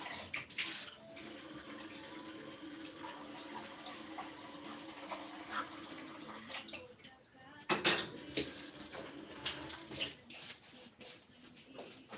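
Water runs from a tap into a kettle with a steady hiss, accompanied by clinks of dishes and a few clatters nearby.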